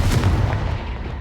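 A Confringo spell blast goes off in the video game Hogwarts Legacy as a single loud, close boom that fades over about a second.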